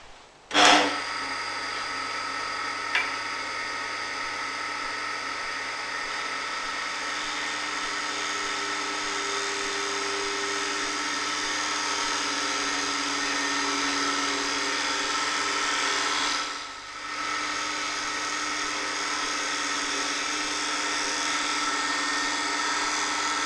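A Robert Sorby multi-tip tool shear scraping on a spinning lathe gives a steady, fairly loud whirring hum with a continuous scraping rasp, broken by one brief dip partway through, with no talking.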